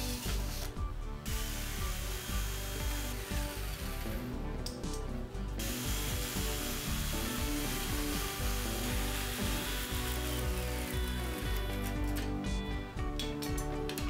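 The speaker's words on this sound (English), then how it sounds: "Now I'm going to go ahead and cut out the gauge face on this as well." Cutting out a gauge face for a steampunk-styled old fridge: busy, close scraping and rasping tool noise with irregular ratchety clicks continues throughout at moderate level, with a few brief gaps.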